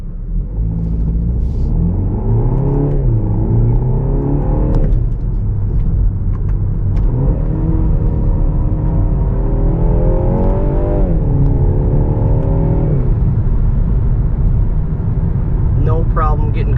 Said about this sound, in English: let's go for a ride and I'll take you through the gears